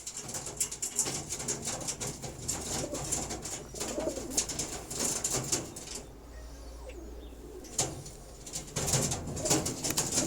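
Sport pigeons coo repeatedly nearby against a busy outdoor background, with a brief flutter of wings partway through.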